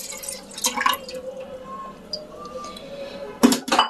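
Milk poured into a rice cooker, a light trickling and dripping of liquid with a few louder knocks at the end, heard alone without talk.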